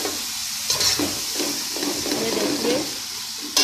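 Salted rice fries in a pot for a one-kilo chicken pulao, hissing and sizzling loudly up close while a spoon stirs and scrapes through it; someone briefly speaks over the cooking.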